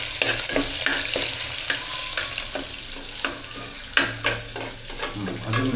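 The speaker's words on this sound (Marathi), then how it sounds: "लसूण थोडीशी ती ब्राऊन होऊ द्या लसूण एक मिनटात ब्राऊन तेल तापलं भरपूर" Garlic browning in plenty of hot oil for a black masala mutton curry, a close steady sizzle punctuated by several sharp spatula scrapes and stirs against the pan.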